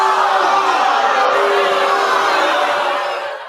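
Crowd cheering and whooping from a podcast soundboard, a dense burst of many voices held steady at full loudness before tapering off at the end.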